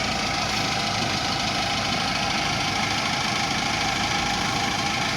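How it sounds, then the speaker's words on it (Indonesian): A motorcycle engine idles at night in the rain, a continuous low rumbling drone with steady vibration and no talk over it. "Motor."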